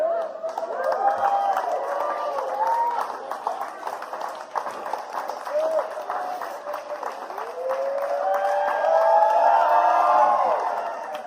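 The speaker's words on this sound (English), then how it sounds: "You guys can get crazy and cheer and stuff if you want." An audience at a K-12 STEM symposium cheers and shouts in a sustained wash of crowd noise, with many voices whooping throughout and the noise swelling louder toward the end.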